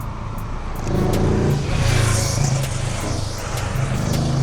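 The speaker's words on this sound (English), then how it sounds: "Hold on, whilst that car goes." A car goes past at the Nürburgring, its engine rising and swelling in a fairly close drone, then easing and staying as a steady hum.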